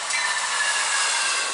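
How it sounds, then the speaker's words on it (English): A train rolls past a railroad crossing, its steady broadband rush and hiss loud and close throughout, with a faint high tone running underneath and no talking. "The train almost hit us"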